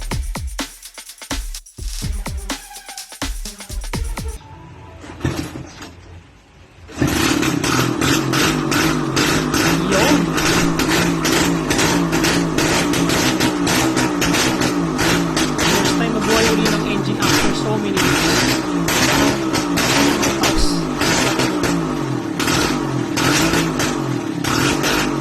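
A rebuilt motorcycle engine in a bare-metal rat-look bike starts and runs, with blips of revving at first, then a loud, steady, rapid firing rhythm that continues close by.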